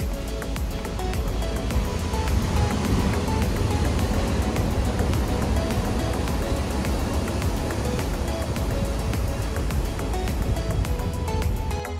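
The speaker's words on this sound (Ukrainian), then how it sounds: "але дуже велика хвиля" Large ocean waves break and roar continuously along a rocky New Zealand shore, a steady loud wash of surf filling the scene.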